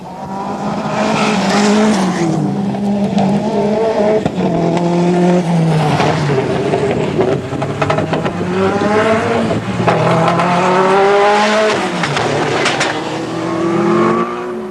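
A Peugeot 205 T16 competition rally car drives hard, its engine rising and falling in pitch while tires squeal and skid, loud and close throughout.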